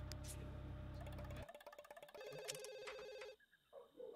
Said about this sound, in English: The phone's already ringing off the hook.